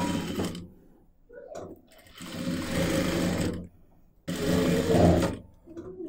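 Close sewing machine bursts stitch fabric for a neck design, two long runs and a short one separated by quiet pauses.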